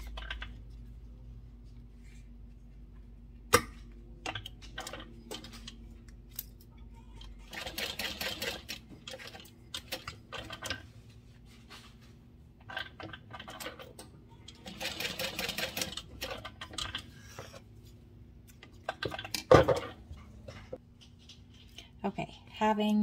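A sewing machine bastes a webbing grab handle onto a fabric sling, running in short quiet bursts of rapid stitching separated by pauses, with a person talking between and over the runs.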